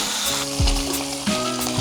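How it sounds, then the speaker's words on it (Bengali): A hilsa fish head fries in hot oil, giving a steady, close sizzle that runs throughout, with brief swells where the pieces are stirred or turned. "আমি এখন মাথাটা ভাজ্যা নিতেছি"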